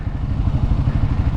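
A Kawasaki KLR 650 single-cylinder motorcycle being ridden, its low engine thumping in a fast, steady pulse close by for a brief moment with no talking.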